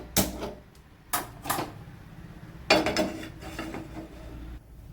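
A kitchen stove is switched on before frying spiced raw plantain (vazhakkai). A few sharp mechanical clicks and rattles sound close by, separated by short pauses, in a quiet room.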